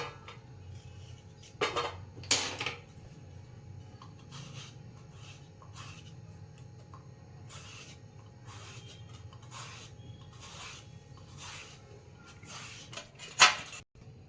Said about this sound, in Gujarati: હવે આપણે દૂધીને સરસ સોલી અને છીણી કાઢીએ.